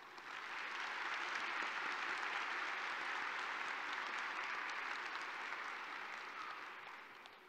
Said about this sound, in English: please join me in giving all of these folks a hand of applause